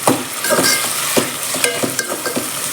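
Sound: tomatoes and onions sautéing in a pan

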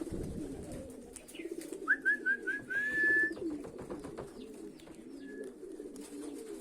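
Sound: pigeons cooing

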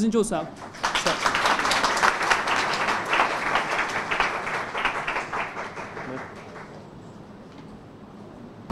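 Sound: audience applause at a prize distribution ceremony

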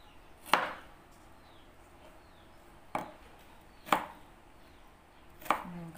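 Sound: slicing ginger thinly with a knife for salad

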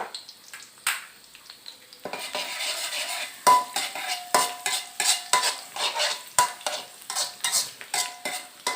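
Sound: minced garlic frying in hot oil

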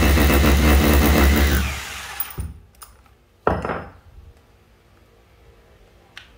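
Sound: electric concrete drill running

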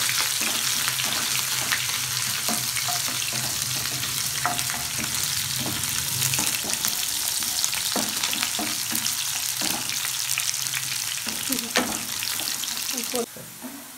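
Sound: onions frying until brown in oil

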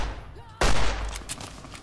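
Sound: gunshots at an enemy in the video game Fallout: New Vegas

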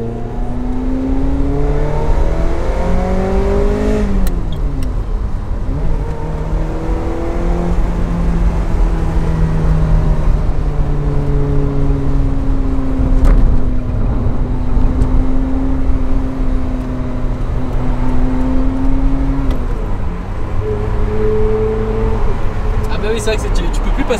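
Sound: car being driven on road

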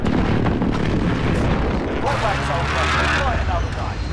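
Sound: cluster strike explosions in Call of Duty Modern Warfare video game

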